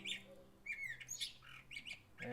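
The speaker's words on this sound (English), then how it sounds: "those are the birds today are very active" Outdoor birds squawk and chirp in quick, scattered bursts, several harsh calls close by with lighter tweets between them.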